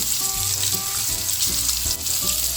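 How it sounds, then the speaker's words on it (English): Halved hunted quail frying in a pan, a dense, continuous sizzle and crackle of hot oil up close, broken by soft thuds and short pops as the pieces shift. "So I've cut them in half. We're gonna fry these up."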